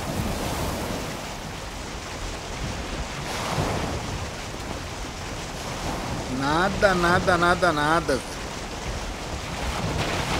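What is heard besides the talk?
big ocean waves while sailing a boat in Valheim video game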